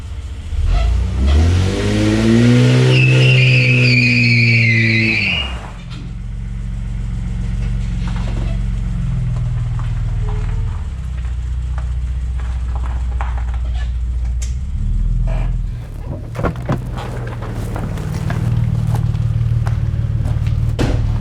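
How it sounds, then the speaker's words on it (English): A Barra-engined car with a new limited-slip differential skids in a shed, its engine revving hard and loud up close, then settling into a lower rumble with tyre scrub and rising revs again. "Time for just a little baby shed skid."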